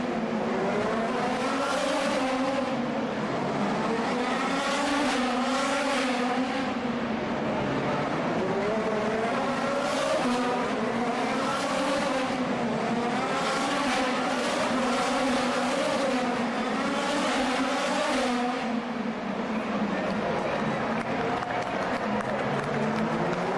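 Race cars on the final lap of the Detroit Grand Prix street race roar past in continuous waves of engine whine that rise and fall in pitch, loud and sustained with crowd noise underneath.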